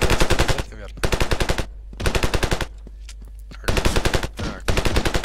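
Kalashnikov rifle firing in Ravenfield, loud rapid full-auto bursts of evenly spaced shots, four long strings separated by short pauses, close and dominant with little else heard.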